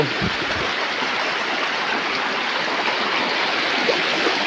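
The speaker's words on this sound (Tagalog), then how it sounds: "Ang gandang tubig dito, ang lamig oh." River water in San Vicente, Sto. Tomas, Batangas flows steadily in a broad, continuous rushing wash, close and fairly loud, with no speech over it.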